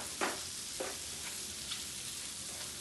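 Onions frying in a pan until translucent, a soft steady sizzle broken by a few scraping spatula strokes, close but quiet, with no talking.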